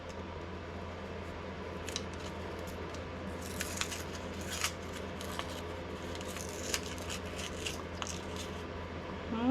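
Scissors cut open a paper seed packet with a few quiet snips and crinkles, faint and close, over a soft steady background hum.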